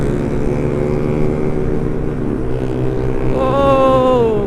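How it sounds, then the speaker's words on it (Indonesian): A Yamaha Xride 125 motorcycle with a loud aftermarket exhaust rides along with a steady low engine drone, rising in pitch near the end as the rider accelerates. "knalpot pasti berisik coy"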